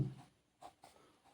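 Chalk or a marker writing on a board gives a few short, faint scratchy strokes with gaps between them and no one talking.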